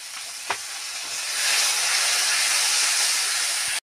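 Water splashes into hot oil and spice paste of ground poppy and melon seeds for a young jackfruit and prawn curry, bursting into a loud, steady, close sizzle that hisses on alone for several seconds.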